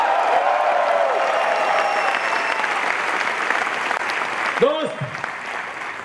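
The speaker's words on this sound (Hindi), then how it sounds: "कितने लोग तालियां बजाएंगे," An audience in a hall claps and cheers loudly on stage at a business event, a dense continuous applause with someone shouting over it near the end.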